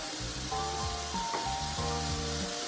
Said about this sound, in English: You can see the nice sizzling sound.